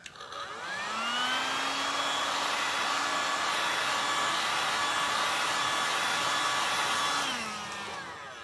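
A handheld heat tool blows steadily for about seven seconds to warm glue on a decorated outlet switch cover, a loud even whoosh with a whining tone that rises as it starts and falls away at the end.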